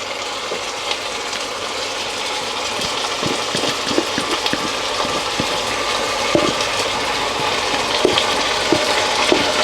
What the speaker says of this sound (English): to that I'm going to add my meat marinade. So straight in with that.